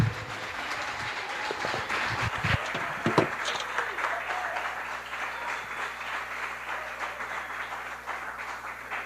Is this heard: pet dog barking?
no